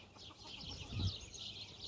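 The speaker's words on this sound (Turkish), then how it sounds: "Lohmantin, Tertuseks gibi tavuklarımız var arkadaşlar" Laying hens, including Lohmann hens, cluck softly nearby in a short burst, with a slightly louder cluck in the middle and no talking.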